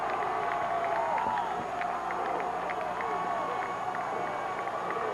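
A football crowd at a 1985 Deerfield versus Antioch high school game roars in a steady, dense wash of cheering and noise from the stands.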